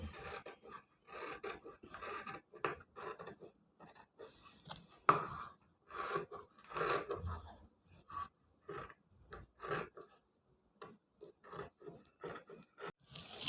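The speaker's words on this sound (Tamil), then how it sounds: "இந்த மாதிரி கழுத்து பகுதியில் எல்லாத்துலேயும் கட் பண்ணிக்கிறேன்." Scissors cutting through blouse fabric around the neck area, a series of close, soft rasping snips in short irregular bursts with quiet gaps between them.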